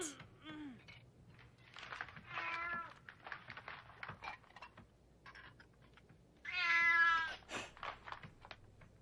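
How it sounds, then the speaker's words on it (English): A cartoon cat in an animated film meows several times, short calls early on and a louder, drawn-out meow later, over a quiet room background. "What? A cat?"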